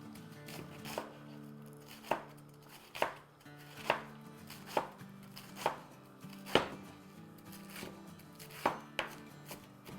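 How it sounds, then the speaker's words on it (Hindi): A knife chops cabbage finely on a cutting board in a steady series of about a dozen crisp, close knocks spaced roughly evenly, with no voices present. "बारीक बारीक काट लेंगे।"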